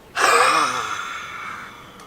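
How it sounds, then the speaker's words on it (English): One forceful huffing exhalation from a yoga breathing technique: a sharp, close breath out that starts abruptly and fades over about a second and a half, with no talk. "In the huffing technique, you take a full breath and you go."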